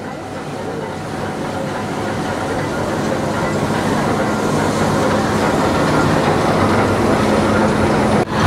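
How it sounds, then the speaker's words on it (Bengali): Nilgiri Mountain Railway steam train departing Coonoor, a continuous rolling rumble of wheels on track that slowly builds in loudness, close by, with a faint hum of voices in the background. "পিপ পিপ বাঁশি দিয়ে ধাও ধাও ধোয়া ছেড়ে ছুটে চললো কুন্নুর থেকে আমাদের স্টিম ইঞ্জিন মেট্রোপলামের দিকে"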